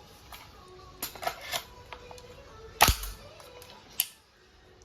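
A WE-brand M4 RIS gas blowback airsoft rifle, Taiwan-made and powered by Green Gas, fires a handful of sharp snapping cracks separated by quiet gaps. The loudest crack falls near the middle.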